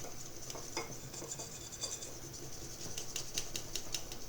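A hand whisk beats lemon chiffon cake batter in a bowl, producing rapid, steady clicking and scraping strokes that tap against the bowl's sides, close and moderately loud with no talking.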